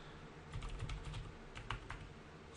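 Login details being typed on a computer keyboard, a quick run of soft key clicks at close range, fairly quiet and without talk.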